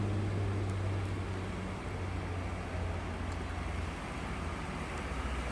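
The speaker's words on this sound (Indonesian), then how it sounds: "Dan sepertinya sudah selesai menaikkan penumpang bus MPM, duluan keluar ya daripada bus ANS Don Juan" MPM bus pulling out of the Bukit Surungan terminal, a steady low engine rumble with broad road noise throughout, no distinct acceleration peaks, continuous and moderately near.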